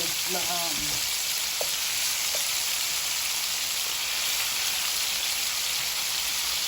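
Food sizzles steadily in a hot pan, a constant crackling hiss, with a brief voice and a couple of light clicks near the start.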